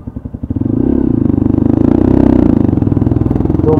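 A motorcycle on a street goes down and slides, a close, loud rattling engine note with a harsh scraping clatter that continues for a few seconds.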